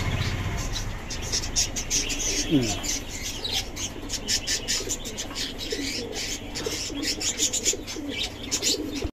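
High flyer pigeons coo and flutter among other chirping birds in a loft or market setting, a close, continuous mix with people talking in the background.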